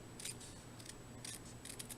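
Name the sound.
scissors cutting paper for card making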